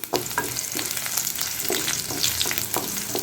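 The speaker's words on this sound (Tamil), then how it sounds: "பூண்டு இந்த எண்ணெயிலேயே நல்லா வதக்கப்படணும், அந்த வரைக்கும் நம்ம வதக்கிக்கணுங்க." Garlic sautés in hot oil in a pan for garlic chutney, giving a steady close sizzle with crackling and intermittent stirring scrapes throughout, without any voices.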